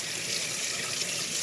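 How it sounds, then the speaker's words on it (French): Tap water runs steadily into a sink during handwashing after gutting a fish, a continuous close hiss and splash with no talk. "Je vais me laver les mains comme il faut."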